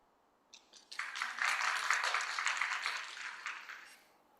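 Conference audience at a linguistics session breaks into applause, a dense burst of clapping that swells quickly, holds for a few seconds and tapers off, moderately distant with no talk over it.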